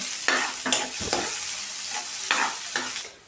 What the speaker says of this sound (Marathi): कांदा आपल्याला हलकासा परतून घ्यायचा आहे